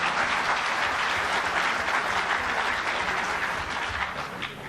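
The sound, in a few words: audience applauding panelists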